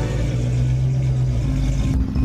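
A cartoon car engine drones at a steady mid pitch as the vehicle pulls away, with no talking.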